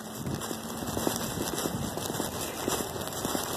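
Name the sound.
light drizzle of rain pattering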